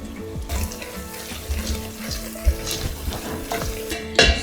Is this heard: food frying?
yes